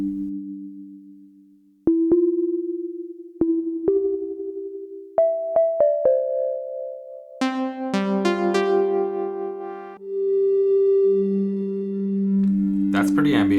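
An OP-Z synthesizer plays clean sustained chord tones one after another, each new chord entering with a soft attack and ringing over the last, building into a mellow ambient progression.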